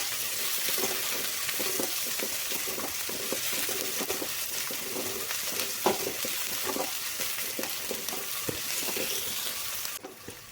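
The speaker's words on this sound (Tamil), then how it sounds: "வெங்காயம் போட்டதுக்கப்புறம் வெங்காயத்தை நல்லா வணக்கிக்கோங்க" Onions sauté in hot oil in a pan for a cauliflower and potato stir-fry, giving a steady close sizzle with scattered crackles and light stirring scrapes, continuous and without speech.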